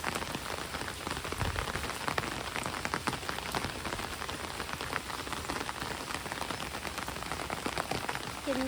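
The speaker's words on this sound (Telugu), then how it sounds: "చూడండి ఎట్లా పడుతుందో వర్షము." Heavy rain falls steadily and densely on surfaces, a continuous close hiss of drops with no pauses and no voices.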